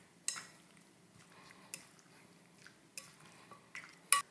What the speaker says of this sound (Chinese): 然后调味下完了，我们就把它拌匀